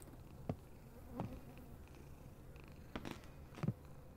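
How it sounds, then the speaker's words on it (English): Outdoor cats purr softly and steadily, with a few brief louder bumps scattered through the low rumble and no talking. "Someone's out here feeding the cats."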